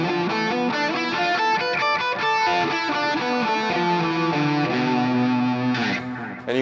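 A distorted electric guitar runs quickly through a Locrian pentatonic scale in rapid single notes, loud and saturated, with no voices.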